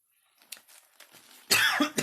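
A few faint sounds, then a loud, close cough with a second short cough right after.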